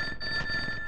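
A landline telephone rings indoors with a steady electronic bell tone that fills the short moment on its own, with no talking over it.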